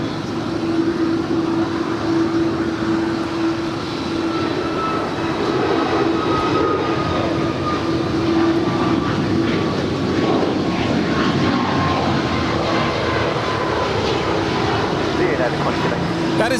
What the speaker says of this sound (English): That is United 2219 departing to Kahului. It's a 737 MAX 9.